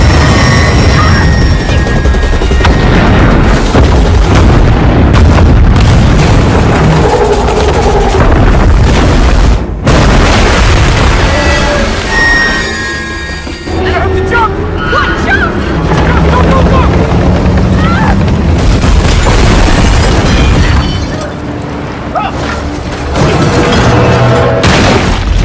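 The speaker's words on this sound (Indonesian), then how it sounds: "Tiba-tiba saja ledakan dimulai." Loud explosions erupt in a box-office action film during a runaway-train scene. Heavy booms and crashes burst over a constant rumbling, helicopter-like roar, with voices mixed in.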